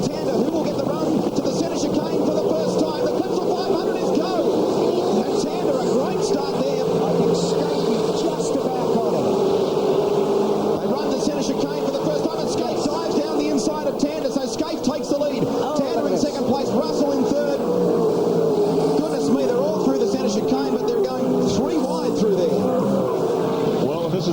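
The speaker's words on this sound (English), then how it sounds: "All in readiness, the revs rise." V8 Supercars at the 2000 Clipsal 500 on Adelaide's street circuit, revving together at the race start: a dense, loud, continuous engine roar with a commentator talking over it throughout.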